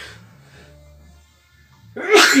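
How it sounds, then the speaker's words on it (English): A single sharp sneeze bursts out near the end, loud and close, after a stretch of quiet background hum. "Excuse me, guys, bit of a sneeze."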